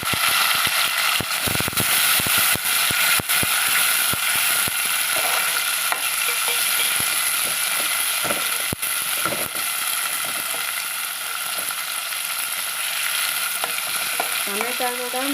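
Tomatoes frying with onions in a pan, a loud, dense, continuous sizzle with repeated scraping clicks of a stirring utensil, close up throughout.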